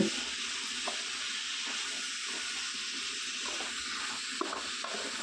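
Pumpkin stir fry sizzling in a pan, a soft, steady hiss and crackle of frying heard quietly and alone, with faint clinks now and then.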